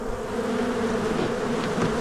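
Honey bees swarm from a hive found inside a rental home, a dense, steady, close buzzing drone that fills the whole stretch without any voices.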